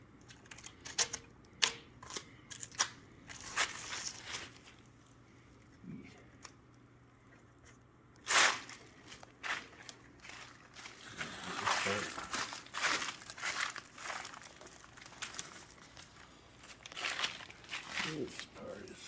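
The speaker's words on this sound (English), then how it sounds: "So let's peel the tape and see what happens" Tape is peeled off an epoxy resin maple slab in bursts of crackling, crinkly tearing and ripping, fairly faint and close, with pauses in between.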